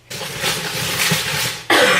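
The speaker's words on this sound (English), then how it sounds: "I still have a bit of my cough" One harsh, breathy cough from a person, close and loud, ending in a sharper second burst.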